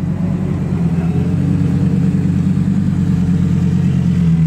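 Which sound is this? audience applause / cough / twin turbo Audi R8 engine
twin turbo Audi R8 engine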